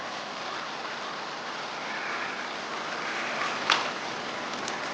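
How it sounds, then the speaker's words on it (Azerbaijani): Steady river water rushes through a dark forest as an even, hissing wash of flow that holds at one level throughout, with a brief faint click near the end and no voices. "Şəlaləsi, su səsi gəlir."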